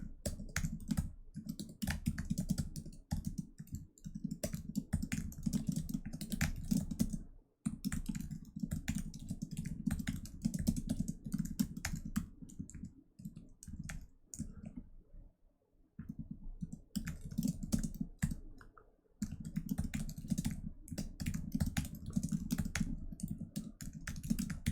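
Steady computer-keyboard typing while writing code for a Leetcode problem, with rapid irregular key clicks running nearly the whole time and brief pauses between bursts, close and moderately loud, with no talking.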